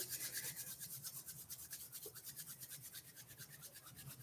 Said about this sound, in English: I invite you to rub your palms together